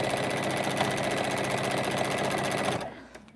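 A sewing machine stitching scrappy quilting fabric for a mini basket, a fast steady mechanical whir and rattle running close and loud, then stopping abruptly near the end.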